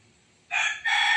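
A rooster crows nearby and fairly loudly in two strained, bright bursts separated by a short dip, with no voices over it.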